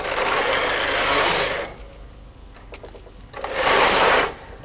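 A Brother KH950i knitting machine carriage is pushed across the needle bed, making a loud mechanical whirring ratchet. The sound comes in two separate passes with a quieter pause between them.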